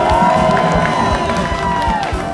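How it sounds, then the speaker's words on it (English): A live studio audience at a game show cheers, whoops and claps loudly and steadily for over two seconds, a dense crowd roar with scattered shouts. "Give yourselves a round of applause. Come on, clap it up"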